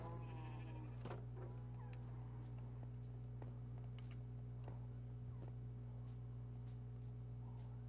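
Minecraft sheep give several short, faint bleats, scattered over a steady low hum.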